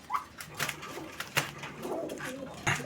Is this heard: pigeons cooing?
yes